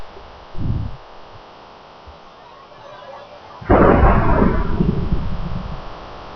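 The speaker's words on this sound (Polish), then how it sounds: "na tym leje i do tego jeszcze burza na tym" A thunderstorm in Minecraft, with a short low thump of thunder near the start, then a loud, rumbling crash of thunder that slowly fades over rain.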